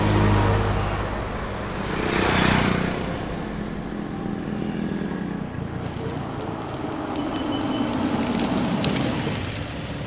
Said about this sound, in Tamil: வண்டியை கொஞ்சம் ஓரமா நிறுத்துங்க.